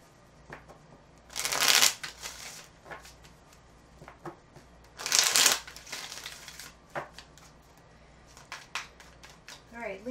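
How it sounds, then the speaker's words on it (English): Two quick bursts of cards riffling together, crisp and close, separated by a few seconds of soft handling and light tapping. "let's do a quick shuffle."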